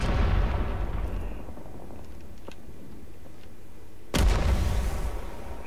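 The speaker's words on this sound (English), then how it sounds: "Yeah, that's napalm." Napalm strike in the Vietnam war shooter Rising Storm 2: Vietnam, a sustained roaring, rumbling burn that fades, then a fresh heavy blast surges back loud and close near the end.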